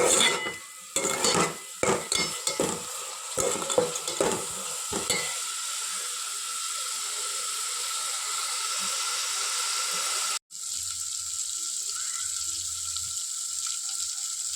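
Onion and tomato fry in a pan for a fish pulusu, stirred with several sharp clanks of a spoon early on, then settling into a steady, even sizzle, with a brief cutoff and a faint low hum near the end.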